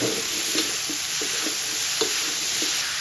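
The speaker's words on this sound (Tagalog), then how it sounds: "lagyan na natin yung ating mushroom. Yung mushroom na gamit natin dito, ayan. Lagyan natin lahat. Ayan. Ayan sa natin haluin." Mushrooms stirred in a frying pan, a steady soft sizzle under repeated light scraping and knocking strokes of the utensil at an uneven rhythm.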